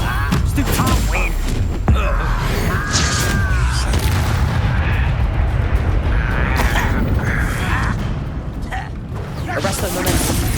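A Confringo fire spell exploding in the video game Hogwarts Legacy, with loud booms and crashing thuds amid continuous combat effects, sharp hits near the start and a roaring wash of blasts that follows.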